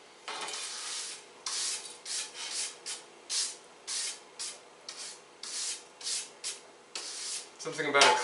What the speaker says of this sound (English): If you've got a little simple brush, maybe you can brush them out